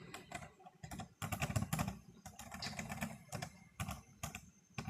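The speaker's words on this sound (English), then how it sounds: "We're going to type, let's see, academia_Gothica." Fingers typing on a computer keyboard in rapid clusters of clicking keystrokes with short pauses, close and fairly quiet, no talking.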